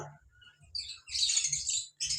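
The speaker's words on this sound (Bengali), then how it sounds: "এই পাখিটার প্রপার নাম আছে কোবাল্ট ফিশার" A cobalt Fischer's lovebird gives quiet, bright chirps in short bursts with brief gaps between them, close by and alone without talk.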